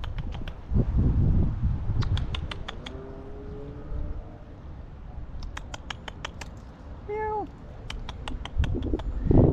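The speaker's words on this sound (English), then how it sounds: "There's a little kitty" A cat on a residential street of 1960s tract houses gives a few short, rising meows amid the patter of footsteps and faint outdoor ambience, with brief clicks scattered throughout.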